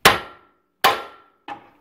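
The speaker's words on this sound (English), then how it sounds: "A couple whacks with a hammer, it'll come right out" Three sharp metallic hammer whacks against a truck's steering knuckle and ball joint on a 1994 Chevy S10 with a 5.3 engine, each ringing briefly; the first two are loud and evenly spaced, the third lighter, with no talk.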